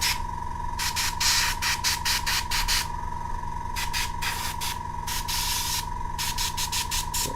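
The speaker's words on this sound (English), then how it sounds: "Nearly there with round 1 of the airbrushing" An airbrush sprays a base coat onto a miniature in short repeated bursts of fine hissing air, each spurt starting and stopping in an irregular rhythm over a steady background hum.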